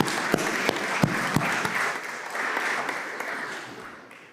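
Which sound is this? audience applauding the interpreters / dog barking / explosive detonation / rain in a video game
audience applauding the interpreters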